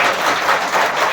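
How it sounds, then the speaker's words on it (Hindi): Brief burst of audience applause for Hitesh at a Haryanvi film event for Dada Lakhmi Chand, a steady dense wash of clapping throughout with no voices. "जोरदार तालियां हितेश के लिए"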